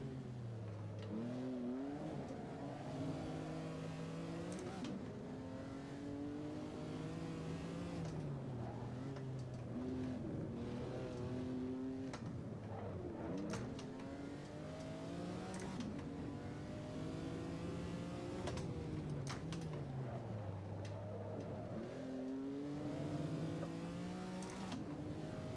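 A 1970s Trans Am race car at Sonoma Raceway drones steadily from the cockpit, its engine revving up and down repeatedly through gear changes at moderate volume for the whole stretch.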